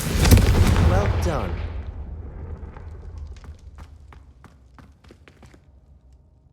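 A Confringo fire spell blast in Hogwarts Legacy: a loud booming burst that fades over a couple of seconds into crackling embers and scattered light pops, with a brief spoken remark over the tail.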